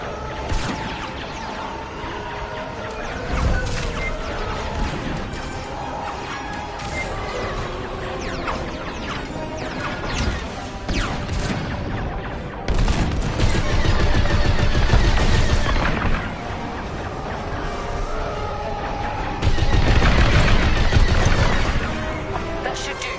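A starfighter takes fire in Star Wars Squadrons amid a dense, loud space dogfight: rapid laser blasts, impacts and engine roar swell and recede in heavy bursts. Brief voices come through over the din.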